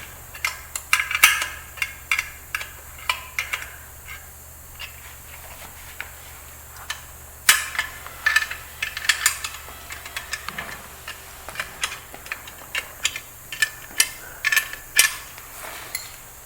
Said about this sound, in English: proceed to tighten with open end 10mm wrench